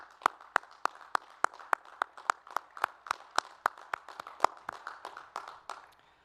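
Clapping at a 2021 Bradley University Foster College of Business commencement, a steady run of sharp, evenly spaced claps lasting several seconds, fairly close and fading slightly toward the end.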